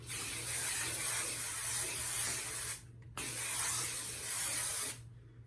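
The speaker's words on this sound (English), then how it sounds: "And then I'm gonna spray it again." Two long bursts of aerosol hairspray hiss close by, separated by a brief pause, with a low steady hum underneath.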